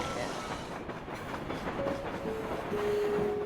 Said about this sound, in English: you can hear the trains go by from there